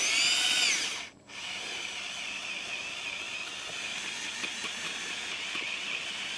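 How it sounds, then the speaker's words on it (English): A power drill drilling holes in soil for planting bulbs whines steadily, briefly stops, then resumes with a continuous grinding buzz throughout, close and loud. "take the drill and drill another hole"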